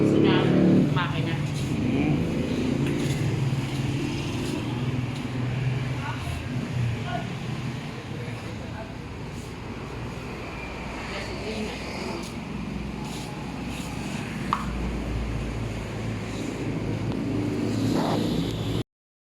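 A 12 horsepower engine runs steadily with a low, continuous drone and some rumble, mostly constant with slight swells, under voices talking nearby.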